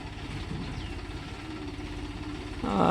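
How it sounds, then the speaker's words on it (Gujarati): Tractor engine idling and chugging at moderate distance as it arrives through a canal on a farm, steady low pulsing rumble that swells louder at the end. "હા જો આવી ગયું ટ્રેક્ટર"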